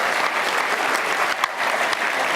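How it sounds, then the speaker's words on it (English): Audience applause at an opening keynote: steady, dense clapping from a crowd, loud and continuous throughout. "Head over to the podium, round of applause."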